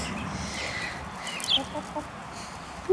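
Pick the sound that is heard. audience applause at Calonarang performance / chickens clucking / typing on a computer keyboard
chickens clucking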